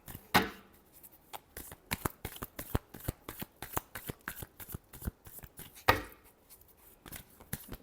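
Tarot cards are shuffled by hand in a steady run of quick crisp riffling slaps, close and fairly quiet, with two louder bursts near the start and later on and no talking.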